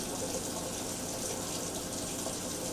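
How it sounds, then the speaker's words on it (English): Water running steadily from a kitchen sink tap, a continuous broadband rush at close range that holds even throughout, with no talking over it. "let me cut that water off"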